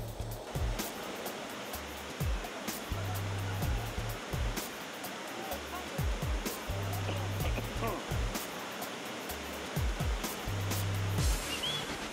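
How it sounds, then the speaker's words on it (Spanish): Waterfall in Tingo María crashing down with deafening force, a dense continuous roar of pounding water, loud and close, with low rumbling thumps running underneath throughout. "del sonido ensordecedor del agua golpeando a tu costado"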